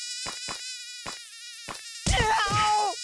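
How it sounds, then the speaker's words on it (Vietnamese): Cartoon mosquitoes buzz in the mobile game Kick The Buddy, a high whining drone broken by short regular pulses, then a louder warbling electronic effect near the end. "Rất nhiều muỗi này hút máu này."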